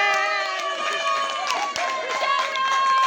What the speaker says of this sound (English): round of applause for me